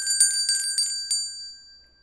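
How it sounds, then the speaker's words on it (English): A bell rings in a cartoon genie story: four quick, bright metallic strikes in a row, each clear and close, then a long ringing tail that fades out alone. "a bell was ringing."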